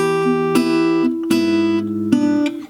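One measure of the lullaby from Disney's Coco is played on guitar: a few clear plucked notes and strums ring out close to the listener, with nobody speaking.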